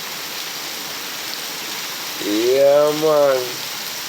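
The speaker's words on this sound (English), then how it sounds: "Some real rain we're dealing with right now" Heavy early-morning rain pours down in a dense, steady hiss that fills the whole clip, with someone speaking briefly over it.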